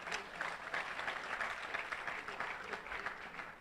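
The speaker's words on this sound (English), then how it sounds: "A round of applause for her." An audience at a university project launch gives steady, even applause throughout, moderately distant and fairly quiet, with no single voice rising above it.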